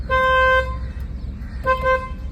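A car horn sounds loud and close during a driving lesson: one honk of about half a second, a short pause, then a second, slightly shorter honk over a low engine rumble.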